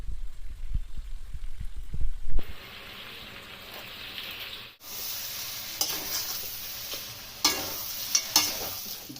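Golbari-style mutton kosha sizzles in ghee in a pan while being stirred, a steady frying hiss with occasional scraping clinks, louder and brighter after a short quieter start.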